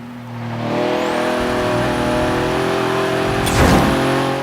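A car engine drones steadily and loud as it drives, pitch holding then rising slightly, with a brief whooshing burst near the end.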